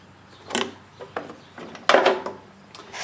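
Air filter being pulled off a Briggs engine, close plastic scrapes and rubbing knocks in a few short bursts with quiet pauses, no talking.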